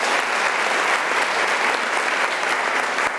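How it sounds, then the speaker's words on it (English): A large audience at a university spring graduation ceremony bursts into sustained, dense applause, a loud, even wash of many hands clapping continuously from start to finish with no voices standing out. "Another round of applause,"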